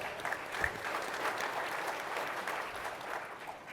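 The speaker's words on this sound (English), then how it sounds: "Jeremy, give him a huge round of applause." A room full of people applauds an introduced sports coalition leader at a play equity summit, sustained even clapping at moderate distance that carries on throughout without speech.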